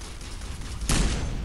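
A turret fires in the video game Ghost Recon Advanced Warfighter: a sustained rattle of gunfire that swells into a louder, heavier burst partway through and keeps going to the end.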